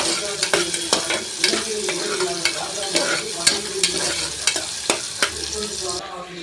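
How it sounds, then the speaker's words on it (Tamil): Garlic, onion, curry leaves and green chillies sauté in a pan after cumin has crackled: a steady close sizzle and frying hiss, broken by frequent sharp scraping strokes of a spoon stirring, with no voices. "பூண்டு, வெங்காயம், கருவேப்பிலை, பச்சை மிளகாய் இதை நல்லா வதக்கிடலாம்."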